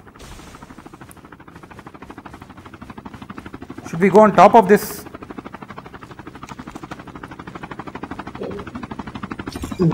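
A helicopter's rapid rotor thumping pulses steadily through the background while people talk, with a short louder burst of sharp clattering midway.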